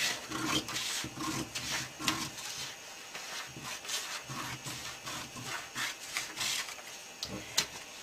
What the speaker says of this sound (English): What we're going to do is we're going to cut this gray line